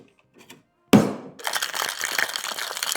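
Ice cubes drop into a glass with one sharp, loud clatter, then keep rattling and crackling as they settle. The glass sits beside pineapple-infused vodka and pineapple juice for a mixed drink.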